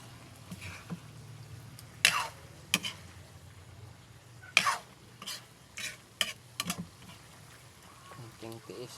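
Pork intestines sizzle in a frying pan and are stirred now and then, with scraping clatters of the spatula and a few coughs and voices in between.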